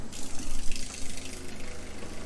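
Pink antifreeze pours from an opened cold water tap in an RV being winterized, a steady, close gushing rush of liquid that continues unbroken throughout.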